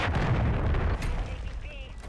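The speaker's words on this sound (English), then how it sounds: "Friendly cruise missile deployed." Rumbling blast from a cruise missile strike in Rebirth Island, the Call of Duty battle royale map, booming low and heavy through the whole stretch with game voices over the top.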